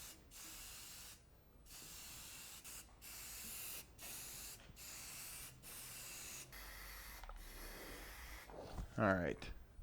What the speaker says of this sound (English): Let's get some paint on it. I've got some universal bonding primer